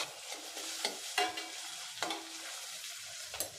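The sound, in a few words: garlic cloves being sautéed and stirred in a pan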